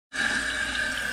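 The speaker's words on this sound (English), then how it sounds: "now we are just rinsing it with water" Tap water runs steadily into a sink as film is rinsed during home developing, a continuous close hiss with no voices.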